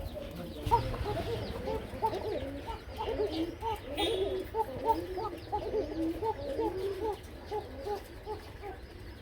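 A running pair of pigeons, among many birds at a pigeon market, cooing and burbling in steady overlapping calls close by, with a low hum underneath.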